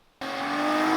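A Nissan Patrol fitted with a Skyline engine bursts into a loud, sudden roar after a brief quiet moment, its engine note sustained and building with a strong, steady tone.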